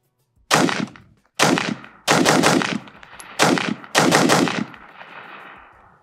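Rapid rifle fire from a PSA upper with an FN premium barrel, five sharp, loud bursts of several shots each with short gaps between, the last trailing into an echoing decay.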